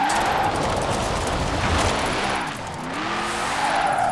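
A car in Forza Horizon 4 accelerates hard in third gear, its engine roaring loudly and continuously with tires squealing throughout, dipping briefly before surging again.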